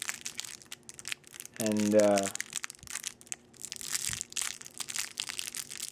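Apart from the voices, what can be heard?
plastic packaging being opened and crinkled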